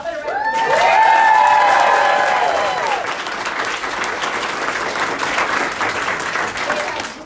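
An audience at a press conference on Virginia's ratification of the Equal Rights Amendment claps and cheers for the ERA chief patrons, the sustained applause swelling with a few voices before settling into even clapping.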